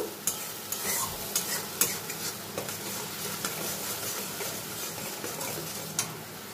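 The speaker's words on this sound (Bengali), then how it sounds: "নুন আর হলুদটা অ্যাড করে দেব। মশলাটা একটু ভালো করে আমি কষিয়ে নেব।" Spices with salt and turmeric are stir-fried in a pan for a soybean and pea kofta curry. A soft continuous sizzle is broken by repeated sharp scrapes and clinks of a utensil against the pan, with no talking.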